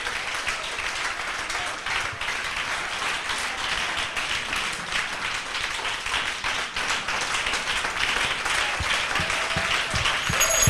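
A church congregation applauding, sustained dense clapping from many people that grows slightly louder toward the end, with faint voices mixed underneath.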